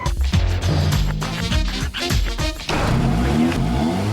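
A car engine accelerating and revving through the gears, loud and continuous with rising and falling pitch sweeps, as traffic noise contributing to air pollution.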